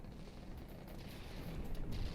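Anti-aircraft flak fire from the From the Depths video game rumbles as a dense, continuous low barrage of distant booms and crackle, steady and fairly quiet throughout.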